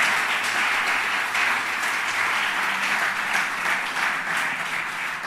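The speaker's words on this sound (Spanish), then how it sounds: "Denle un aplauso a Dios, por favor." A church congregation gives a steady round of applause, dense and even throughout, with individual claps blurred into a continuous wash that tapers slightly at the end.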